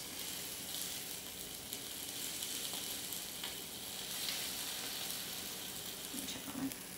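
A breakfast sandwich sizzles steadily in a mini waffle maker, a soft continuous crackle and hiss at close range with small pops, no talking over it.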